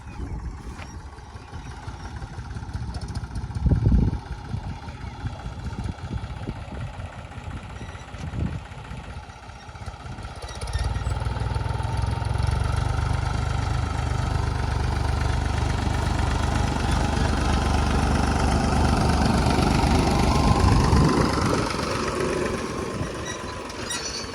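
A large tractor engine runs outdoors in a farm field, a steady low rumble that swells noticeably louder midway and holds there, with occasional knocks and clatter.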